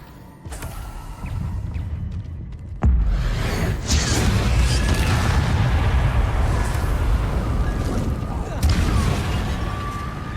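Confringo spell blasts in Hogwarts Legacy on PS4 go off as loud booming explosions, with sharp cracks and a heavy rumbling tail over a dense battle din and a speaking voice.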